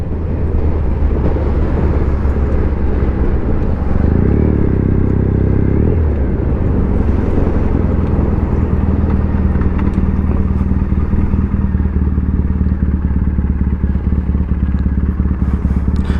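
A BMW G310R motorcycle rides on a road while lane splitting, its engine droning loudly and steadily with wind rush, and the pitch shifts briefly partway through.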